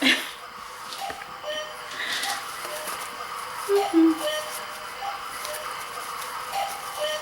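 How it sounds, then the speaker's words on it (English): A cuckoo clock sounds a few soft, hollow two-note calls indoors, faint beneath steady room noise. "now that my cuckoo clock has stopped cuckooing"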